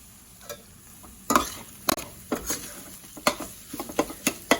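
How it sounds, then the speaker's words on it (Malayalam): Tomatoes cooking in a pan for a mung dal spinach curry, soft sizzling under a series of irregular spoon knocks and scrapes against the pan, growing busier toward the end. "ഈ തക്കാളി ഒന്ന് വേവിച്ചെടുക്കാം കേട്ടോ."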